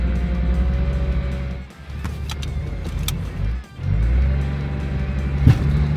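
A lighter 4WD vehicle tows a heavier one backwards out of a snowdrift on a snowy mountain pass, with a steady close engine drone that twice dips briefly before straining back up. A short knock lands near the end.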